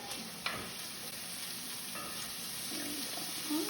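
Bacon sizzles gently in melted butter in a pan, a quiet, steady crackling hiss with a few faint clinks and stirring scrapes.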